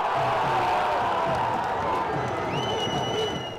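A football stadium crowd roars after a goal in an Iraqi league match, a dense, continuous wash of cheering with shrill whistles cutting through near the end.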